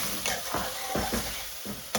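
Onions softening and caramelizing in a pan with a pinch of salt while a Bangladeshi lamb aloo curry is cooked, giving a steady close sizzle and fry broken by a few stirring scrapes.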